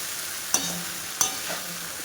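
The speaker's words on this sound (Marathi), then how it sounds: "छानपैकी पलटून घेणार आहोत, उलट पुलट करून घेणार आहोत." Jowar hakka noodles sizzle quietly in a pan while two sharp utensil knocks mark the tossing, about half a second apart.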